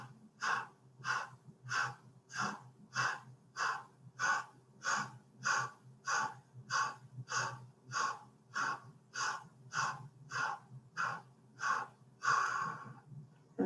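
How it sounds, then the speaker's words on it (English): Breath of fire yoga breathing: a steady run of about twenty quick, short, forceful exhales through the nose, evenly spaced and close, with no talking. "let's go back to our breath of fire one more time. Just pulling the navel into the spine with an exhale, quick and short"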